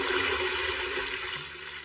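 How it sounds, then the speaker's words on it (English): Magically summoned water pours out in a steady, dense rush, loud and close for the whole stretch with no voices over it. "Water, come forth."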